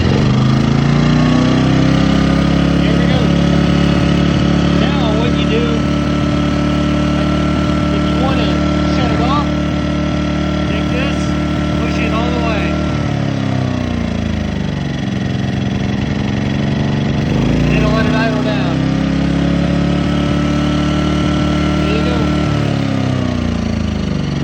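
Ryobi 2300W electric start generator engine running with a loud, steady, close mid-pitched hum whose pitch drops and recovers a couple of times, while someone talks over it.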